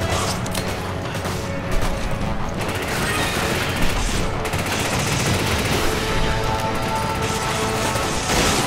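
Rifle gunfire in Resident Evil 5, a loud, sustained run of rapid shots mixed with mechanical clatter and crashes, continuing for several seconds without talk.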